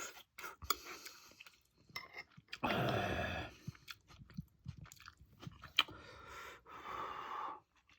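Close, quiet chewing of food eaten with kimchi, with crunchy bites in short bursts, soft breathing and a light clink of cutlery between mouthfuls.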